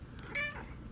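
A cat gives a single short meow, close and fairly clear over a low background murmur.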